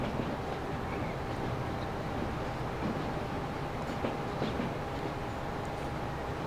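An East Coast passenger train pulls away in the Transport Fever game, a steady rumbling rail noise with faint wheel clatter and a thin sustained whine, moderately quiet and continuous throughout.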